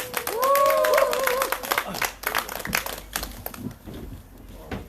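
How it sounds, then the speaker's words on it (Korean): Crowd at an outdoor evening candlelight rally claps and cheers to welcome a committee chair on stage, with whistles and shouts near the start before the applause fades into scattered claps. "위원장님 큰 박수와 함성으로 모셔보도록 하겠습니다"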